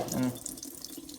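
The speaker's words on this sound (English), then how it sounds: "take a little bit of water, not enough to splash you" A sink tap runs a gentle stream of water over a fan grill being cleaned, a close, steady rush with light splatter, while a voice speaks briefly at the start.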